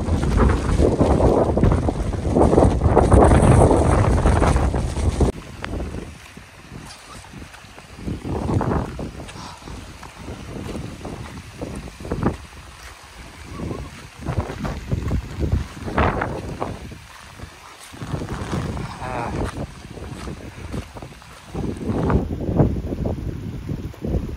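Strong monsoon gusts of wind on the trek to Lohagad Fort buffet the microphone in heavy rumbling bursts, rising and falling irregularly, loudest at the start.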